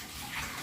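Continuous rushing, splashing rainwater leaking into a house, like a steady stream pouring indoors, loud and close for a brief moment.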